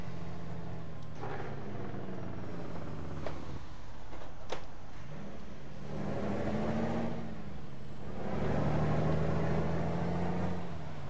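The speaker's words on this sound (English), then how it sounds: "I love the loud engine noises." Simulated Peterbilt 379 truck engine in Euro Truck Simulator 2, a steady deep diesel drone heard from outside the cab that swells as it accelerates, with brief hissing and clicks and no talk.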